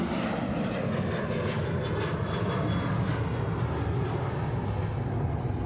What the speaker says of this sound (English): On a 737 getting away there on runway 34 right.